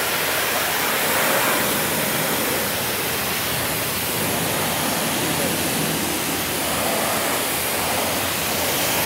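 A pressure washer sprays water at 4.2 gallons per minute, producing a loud, steady, broadband hiss of spray that continues unbroken throughout.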